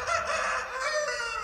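A rooster crows in the morning, one loud drawn-out call close by, heard alone.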